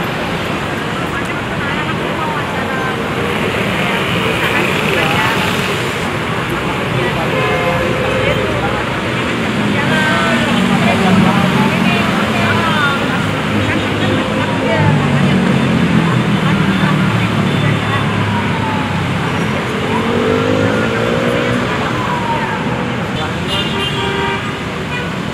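A TransJakarta bus moves through busy Jakarta road traffic, with a constant engine and road rumble, several horn toots and passing vehicles, while voices talk over the noise throughout.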